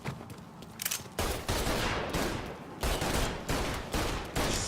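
Rapid volleys of gunfire from the video game Mafia III, loud and close, with repeated bursts that crack and fade over a few seconds, no talk over them.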